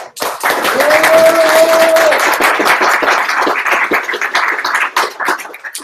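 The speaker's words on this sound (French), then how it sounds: "Donc on les applaudit." A meetup audience in Paris claps for its hosts, loud dense applause that starts abruptly and holds steady for several seconds, a short tonal whistle or voice briefly rising through it early on.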